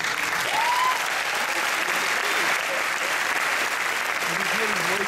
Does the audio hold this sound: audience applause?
yes